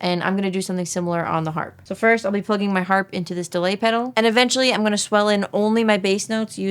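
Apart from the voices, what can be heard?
No everyday noises stand out.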